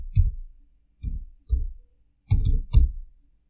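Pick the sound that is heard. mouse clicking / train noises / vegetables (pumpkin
mouse clicking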